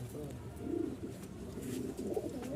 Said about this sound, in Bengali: একটু বের করে দেখাই কবুতরটা